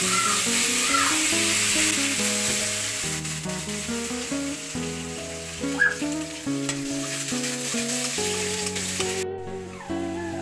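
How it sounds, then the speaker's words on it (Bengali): Potatoes frying in hot oil for a koi fish dish, a steady close sizzle with faint stirring and utensil taps, heard alone with no voices before the sound cuts off near the end. "এবার আমি আলুগুলোকে ভেজে নেব"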